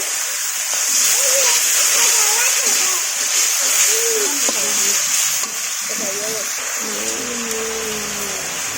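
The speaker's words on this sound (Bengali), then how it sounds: "এবার দিয়ে দিব এই যে একটু পানি।" Water poured into spice paste frying in a pan produces a loud, continuous hissing sizzle and splatter close by, while someone talks throughout.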